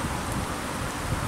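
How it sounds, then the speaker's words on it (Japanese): Steady rain falling in Uto, Kumamoto, a dense continuous hiss of drops on surfaces, close and even throughout with no pauses. "雨です"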